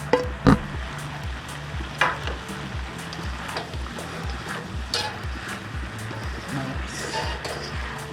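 Masala quail eggs fry with vegetables in a pan, a steady close sizzle with occasional stirring scrapes and clinks over it.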